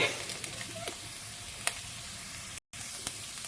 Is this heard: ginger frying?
yes